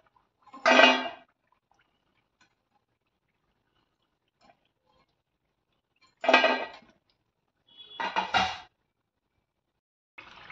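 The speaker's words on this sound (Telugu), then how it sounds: "ఇప్పుడు మనం ఇవి వేరే ప్లేట్లోకి తీసేసుకుందాం" Crisp fried rice flour murukulu are lifted out and moved onto another plate, giving three or four short, separate crackly clatters with quiet gaps between them.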